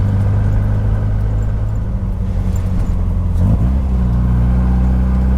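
An MG car's engine drones steadily while driving on a road, a loud, close, low rumble that holds even throughout with a brief shift in pitch partway through, and no voices over it.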